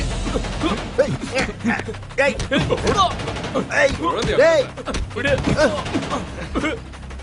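Bursts of gunfire in a fight scene from the Tamil film Vivegam, rapid loud shots tangled with shouting voices and a dense dramatic mix throughout.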